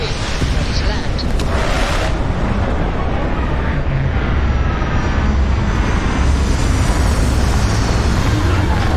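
A spaceship touching down in the video game Starfield, a loud, continuous roaring engine rumble with a deep low drone and rushing noise, plus a few brief mechanical clanks early on.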